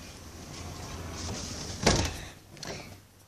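A sliding balcony door in a holiday room rolls along its track and shuts with a sharp close thud, followed by a softer rattle, near and without talk.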